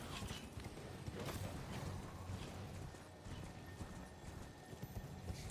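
Steady clip-clop of horse hooves walking, with an occasional whinny, set against a dense, busy background of game-like ambience.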